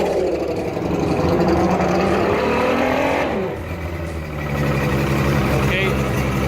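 A boat engine runs just after winterization, burning off oil left in the cylinders, with a loud steady rumble that dips briefly midway, and someone talks over it.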